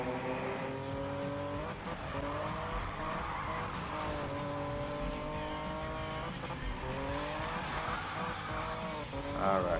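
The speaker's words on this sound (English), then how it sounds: "I'm busy drifting, dude." Sustained drift in Need for Speed 2016 on PC: a loud engine holds a steady drone while tires squeal in long sweeping bursts, with pitch shifts as the car slides and recovers through several turns.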